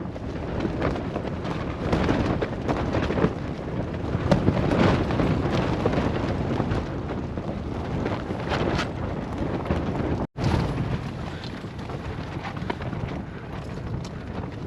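Strong wind buffets the microphone during a Kilimanjaro summit push in extreme weather. A loud, continuous roar rumbles and gusts with a brief dropout near the end, and no voice is heard over it.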